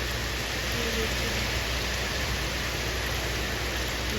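Heavy rain pours outside a window, making a dense, unbroken hiss of drops drumming on surfaces that stays even and loud for the whole stretch, with no voices.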